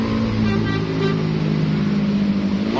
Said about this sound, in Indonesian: Jadi ada 4 bis yang berangkat ya siang hari dari Cililitan.